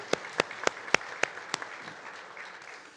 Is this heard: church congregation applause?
yes